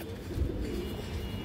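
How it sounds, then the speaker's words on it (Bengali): Large female Giya Chulli pigeon, a flying breed, cooing in a short, low, muffled burst close by, with no voices. "একটা গিয়া চুল্লি মাদি কবুতর, বড় সাইজের একটা মাদি কবুতর"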